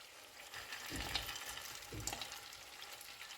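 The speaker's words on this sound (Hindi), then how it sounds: "इसको 2 से 3 मिनट तक और भून लेंगे" Makhandi halwa roasting in a pan gives a soft, low sizzle with a couple of gentle stirring scrapes, quiet and close, with no voices.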